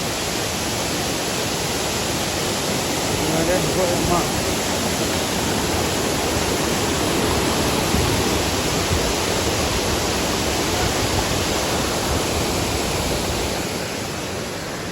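Steady, dense roar of rushing water at Kaigal waterfall fills the whole stretch, loud and close, with no voices and little change in level.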